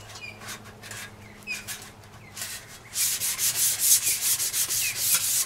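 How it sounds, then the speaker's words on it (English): Sandpaper scrubbing a metal light pole to remove oxidation: soft rhythmic rubbing strokes at first, then louder, faster scratchy passes in a steady back-and-forth rhythm, with birds chirping faintly outdoors. "I take some sandpaper and just kind of give it a quick sanding just to get some of that oxidation off there"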